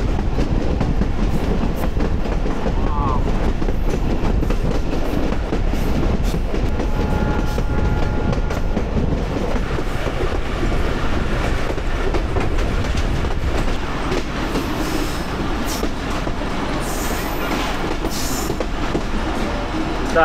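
The Bhatiapara Mail passenger train runs through rural countryside around Rajbari and Faridpur, heard from inside as a loud continuous rumble with rhythmic clickety-clack of wheels and occasional faint squeals.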